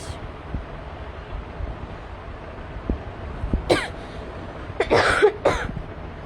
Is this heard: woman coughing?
yes